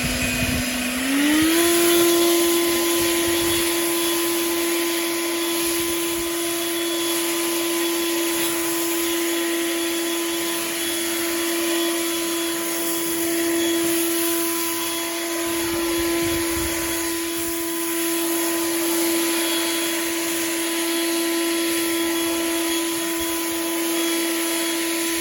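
A Bushranger 36V battery-powered leaf blower runs in turbo mode, its whine stepping up in pitch at the start and then holding a steady, loud, close airflow roar for the rest of the clip.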